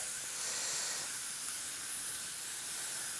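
A spray bottle gives a continuous hissing spray of water over kohlrabi microgreen seeds, close and fairly loud, holding steady for a few seconds with no voices.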